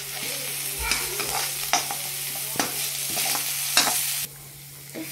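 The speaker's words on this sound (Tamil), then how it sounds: "அப்புறம் நல்லா சாட்டே பண்ணுங்க" Turmeric powder and salt sauté in a hot pan, a steady oily sizzle broken by a spatula's repeated scrapes and stirs, close and alone with no talk.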